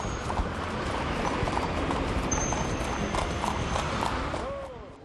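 A horse-drawn buggy clip-clops along a street in Marrakesh, steady hoof strikes over a dense wash of city traffic and background noise, with a brief engine or horn tone partway through.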